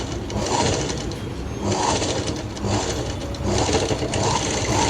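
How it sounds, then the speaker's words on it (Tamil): A sewing machine stitches along the neck edge of a blouse, a steady close rhythmic whirring and clatter that keeps running for the whole stretch with only slight swells in loudness, and nobody speaks. "இப்போது இந்த எட்ஜ்லேயுமே நான் இந்த மாதிரி வந்து இன்னொரு தையல் வந்து போட்டு எடுத்துக்கிறேன்"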